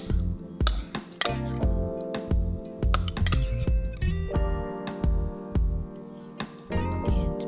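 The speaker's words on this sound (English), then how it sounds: "we're going to take our sour cream and we're going to stir that together with our milk" Spoon clinking against a bowl while sour cream and milk are stirred together for a frozen layered ice cream cake, a steady run of close, bright chimes and knocks with short pauses.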